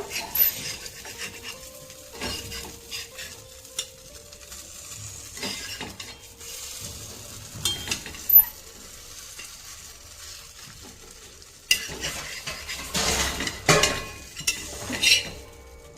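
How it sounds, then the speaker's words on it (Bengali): Rice flour and egg pitha frying in a pan gives a faint background sizzle, broken by intermittent scrapes and clinks of a spatula against the pan, with a louder burst of stirring toward the end. "এবার এটা মিডিয়াম টু লোতে পিঠেটা তৈরি করব"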